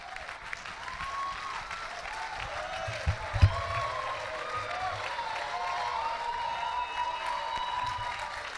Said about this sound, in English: As we shout a big joy for Jesus, clap your hand, jump, and high praise as we welcome our senior pastor.